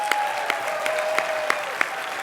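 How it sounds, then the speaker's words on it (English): Guests at a human rights award gala dinner applaud the kitchen staff. Steady clapping runs throughout, with sharper individual claps standing out at regular intervals above the general patter. "So why we don't give them a round of applause?"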